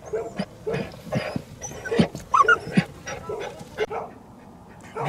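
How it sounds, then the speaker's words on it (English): A small dog digging at a hole after a muskrat trapped under cement gives short whimpers and yelps amid scratching and rustling, close by and irregular, with no talk. "she's a determined little dog, so hopefully she can dig in and get a hold of it"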